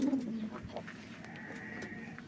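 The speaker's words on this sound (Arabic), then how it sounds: "بص الحمام" Pigeons coo softly nearby in a few low, rounded calls over quiet outdoor background noise.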